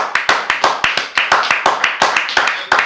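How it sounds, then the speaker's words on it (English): A few people clap in a roughly steady rhythm for Marc Theobald on a talk show, sharp close claps sounding about five times a second, with speech mixed in. "I give a round of applause to Mr."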